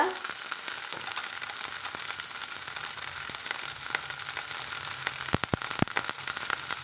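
Chopped okra and curry leaves sautéing in a pan for an Andhra-style tangy tomato relish, a steady close hiss of frying with a few sharp spatula knocks near the end.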